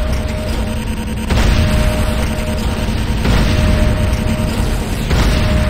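Structures blowing up in the Command & Conquer Renegade video game as a Nod Obelisk is destroyed: loud, sustained rumbling booms with fresh blasts surging about every two seconds over a dense roar.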